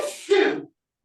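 A single sneeze bursts out, short and fairly loud, with a brief intake before the sharp release and then silence.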